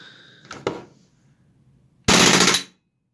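A WE F17/18 airsoft pistol modified for select fire: a couple of close, sharp clicks, then a loud, rapid full-auto burst lasting about half a second before cutting off.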